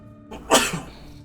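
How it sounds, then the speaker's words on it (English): A single sharp sneeze bursts out close by, a quick intake then an explosive, breathy release, followed by quiet. "Excuse me, sneeze."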